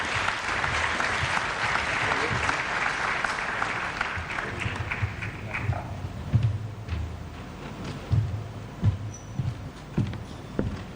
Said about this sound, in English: another round of applause for all our sponsors for their support.